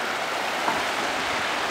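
A creek flows beside a primitive cabin at Allegany State Park, a steady close rush of water with a broad, even hiss and no other sounds.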